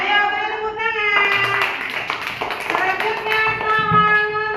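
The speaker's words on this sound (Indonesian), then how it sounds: "Ayo beri tepuk tangan." A classroom of children claps together in a lively, uneven patter, with a teacher's and pupils' voices mixed in underneath throughout.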